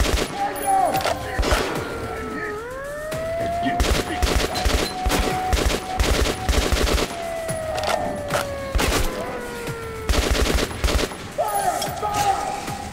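Gunfire from the video game Metro Last Light Redux, repeated bursts of rapid shots and heavy thumps with a rising and falling electronic whine, a voice speaking over parts of the fighting.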